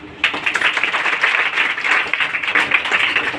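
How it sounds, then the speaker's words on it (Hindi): A group claps hands together during an exercise session, rapid dense clapping starting abruptly and continuing steadily at close range. "ताली बजाओ।"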